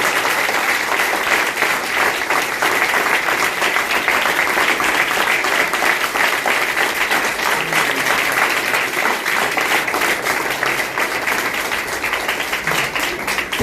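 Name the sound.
congregation applauding in church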